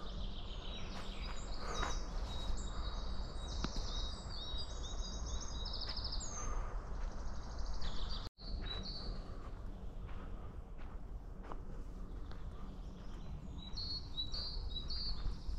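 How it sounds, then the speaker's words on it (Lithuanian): A small bird sings repeatedly in a quiet forest in Kleboniškis, Lithuania, bright high trills and chirps recurring through steady background hiss. "Kaip gražiai girdė paukščiukas, kai čiulba."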